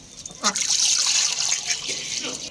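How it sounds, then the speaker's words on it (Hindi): Fresh water pours and trickles steadily for a couple of seconds into poultry drinkers, a close splashing stream with a brief voice near the start. "इनको भी फ्रेश वाटर डाल देते हैं।"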